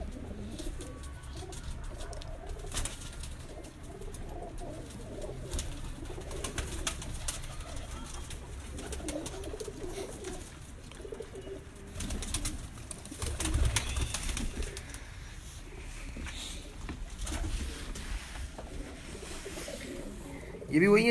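Pure-bred breeder pigeons at a Lahore loft, a golden pigeon and its mate among them, coo softly at a moderate distance. The cooing keeps going under background noise and some faint voices.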